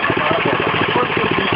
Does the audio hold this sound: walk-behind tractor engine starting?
yes